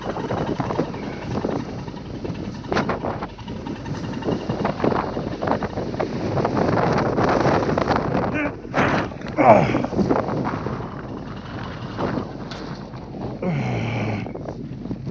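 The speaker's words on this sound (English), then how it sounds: "just the wind caught me" Strong gusts of wind buffet a campsite, roaring and battering the microphone in surging waves, with brief flapping and rustling bursts between the heavier blasts.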